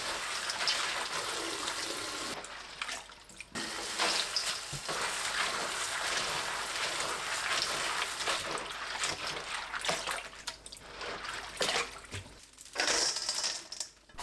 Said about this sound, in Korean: 말린 오이를 물에 2번 씻어주세요.